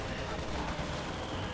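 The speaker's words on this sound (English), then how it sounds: "Heavy mortar landing in the area" Heavy mortar shells landing in a war video game battle, a dense, continuous rumble of blasts and crackling gunfire filling the whole moment at steady loudness with no pause.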